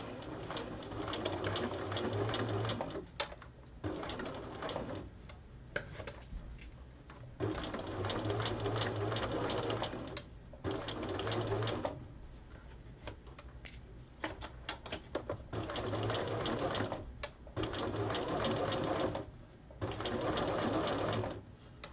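A sewing machine stitches a continuous bound placket in straight runs, its rapid steady whir loud and close, stopping briefly several times between bursts of stitching.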